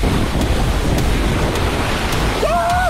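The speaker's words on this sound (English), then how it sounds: "Yo! I'm on a water slide in a forest right now!" Rushing water and wind roar continuously while someone rides a water slide through a forest, loud and close, with a brief rising whistle-like tone near the end.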